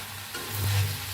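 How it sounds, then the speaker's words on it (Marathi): Coriander and mint roasting in a pan give a short, soft sizzle with one stirring scrape, close by and moderately loud, with no voices. "हे बघा पुदिना, त्याला बी हलवून 1 मिनिटभर असं हलवून घेऊया"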